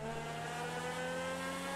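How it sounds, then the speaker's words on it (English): A Ferrari LaFerrari engine from a real-life cars mod in GTA 5 drones with a steady, humming note at high revs, held evenly and close throughout with no voices. "Look at that sound of this car, man."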